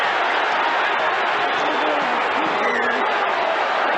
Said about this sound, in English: They're still fighting and the crowd is booing.